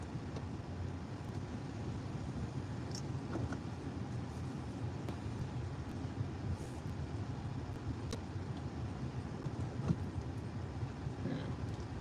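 Steady road traffic noise of cars driving along a street in Cape Town, a continuous low rumble with a few faint passing swells and no talk.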